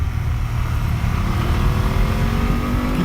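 BMW F 750 GS motorcycle engine droning steadily while riding at a good pace, with a continuous low rumble and wind noise throughout and no one speaking.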